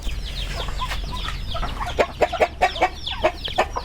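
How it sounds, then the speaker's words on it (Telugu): Native country rooster and hens on a poultry farm, giving a rapid run of loud, close clucks that grow into sharp repeated calls in the second half, over a low background rumble. "దీంట్లో ఉంది ఇది పుంజు."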